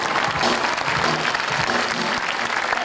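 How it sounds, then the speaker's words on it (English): An audience claps for a juggler performing tricks at the Medora Musical, a steady wash of applause close by that holds across the whole moment without talk. "Wow, what a great time to applaud."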